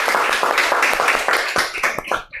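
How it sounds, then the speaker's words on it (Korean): A small crowd at a Buddhist temple gathering claps in encouragement, a quick burst of hand claps lasting a couple of seconds, fairly close and fading out at the end. "격려의 박수"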